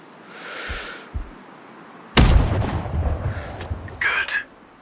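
A sniper rifle fires in the Sniper Ghost Warrior Contracts video game: a single sudden loud crack with a booming, decaying tail, after a couple of soft thuds and before faint game effects.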